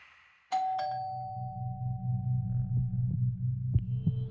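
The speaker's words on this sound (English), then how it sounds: "the doorbell rang" A doorbell chimes sharply twice, its tone ringing out and fading, followed by a low pulsing thump and another brief ding.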